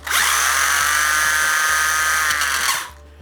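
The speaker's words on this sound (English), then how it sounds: "Now pay attention to how much the wheels spin and the noise that it makes." A high-pitched electric motor of an MJX 1/14 scale RC truggy whirs steadily, spinning its wheels at full speed for nearly three seconds, then cuts off abruptly, loud and close.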